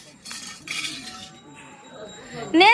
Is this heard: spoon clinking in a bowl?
yes